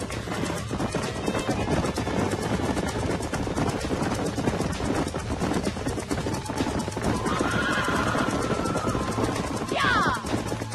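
Horse whinnying in the Western video game Red Dead Redemption, a bucking bronco being broken, heard loud near the end over a dense bed of hooves, running and game ambience.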